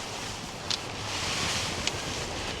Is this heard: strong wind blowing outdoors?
yes